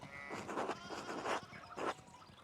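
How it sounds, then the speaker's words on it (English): Sheep in the game Pentiment bleating three times in a row, short wavering calls at moderate distance, fairly quiet, with no talk. "we need to get these sheep under control."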